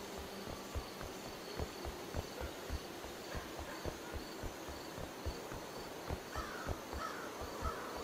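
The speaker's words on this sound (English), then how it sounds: "There's the crows." Crows cawing in a video game forest, several harsh calls sounding at a moderate distance over a low, steady rhythmic thumping and faint ambient hum.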